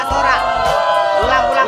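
A crowd cheers and whoops on cue during a film shoot, a loud sustained roar of mixed voices with a few shouts rising above it.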